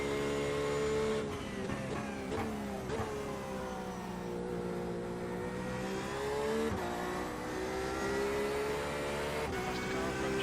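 A race car in the iRacing sim at Circuit de Barcelona-Catalunya screams steadily at high revs, shifting pitch through gear changes as another car approaches and passes, with quiet talk underneath.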